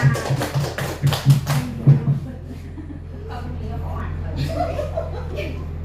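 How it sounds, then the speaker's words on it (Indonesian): A group of teachers at a training session claps hands in a quick, brisk burst for about two seconds with some light chuckling, then the room settles into a low murmur with faint shuffling. "Tepuk tangan."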